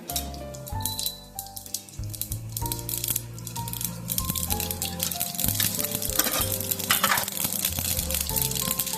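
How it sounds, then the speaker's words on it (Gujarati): Mustard seeds crackle and sizzle in hot oil in a pan for a Gujarati sev tameta shaak, a steady frying hiss running the whole time beneath louder background music. "તેલ છે એ આપણું એકદમ સરસ ગરમ થઈ ગયું છે. હવે એની અંદર પહેલા 1 ચમચી જેટલી રાઈ એડ કરશું."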